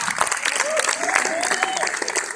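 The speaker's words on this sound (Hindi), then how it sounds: "जोरदार तालियों से उनका स्वागत करें।" An audience at a Haryanvi film premiere show in Rohtak claps loudly to welcome an actress to the stage, dense steady applause with a voice speaking over it.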